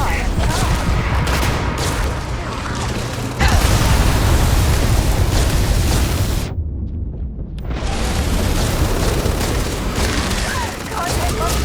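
Gunfire in the video game Starfield, a loud, continuous barrage of rapid shots and booms with a sudden brief drop-out in the middle before the firing resumes, heavy and close.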